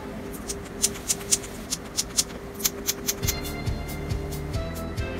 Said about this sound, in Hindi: जो कि क्लिकर है तो इसको इसका साउंड आप सुनिए